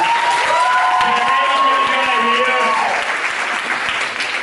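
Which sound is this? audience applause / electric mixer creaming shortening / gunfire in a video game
audience applause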